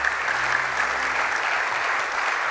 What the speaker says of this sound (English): I would love for you all to show a round of applause for Amit